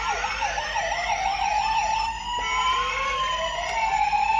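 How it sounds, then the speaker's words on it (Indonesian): A toy ambulance siren wails, sweeping up and down continuously, bright and electronic, with no talking. "Ini ada sirinenya yang bisa berbunyi"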